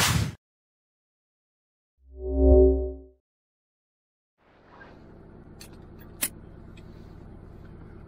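A 1995 Ford F-150 pickup with a 4.9 liter engine pulls away on a Sunday morning, its low, steady cabin rumble rising after a quiet stretch and a brief tone, with one sharp click.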